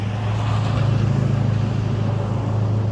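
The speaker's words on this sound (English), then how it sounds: "Sorry for all the traffic noise. We're right by the road." Steady road traffic rolls past a rural home at commuting time, a continuous low rumble and hiss of cars that stays loud throughout with no clear gaps.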